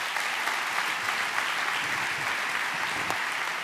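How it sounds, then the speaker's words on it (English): An audience claps steadily through a sustained round of applause for a speaker at an evening talk, an even wash of many hands at moderate distance with no voices over it. "can we please give a big round of applause for Hasani Pettiford?"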